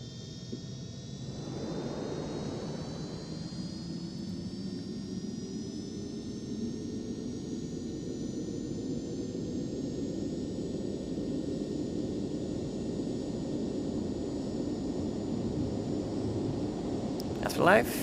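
Jet engines in a Cessna C525 flight simulator spool up on the takeoff roll, a steady turbine roar with a rising whine that holds level throughout.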